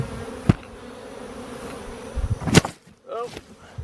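Bees from a hive knocked over by fighting bulls buzz steadily and close throughout, with a couple of sharp knocks and brief rustling handling noise breaking through near the middle.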